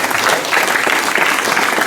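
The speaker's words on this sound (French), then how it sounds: "Je vous demande encore de l'applaudir" An audience applauds a committee member and IT adviser at a French association meeting, a dense, loud, continuous clapping that fills the whole moment from start to finish.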